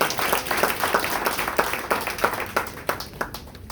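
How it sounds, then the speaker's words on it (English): Audience at a political gathering clapping together, a dense, even stream of handclaps close by that slowly thins into separate, sparser claps toward the end. "may we all clap for ourselves for making it today"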